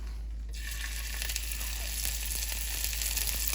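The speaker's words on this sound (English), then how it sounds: "Season our scallops with salt, and then begin searing them." Salted scallops sear in a hot cast iron pan with a steady, bright sizzle that swells just after the first half second and continues unbroken, close and alone.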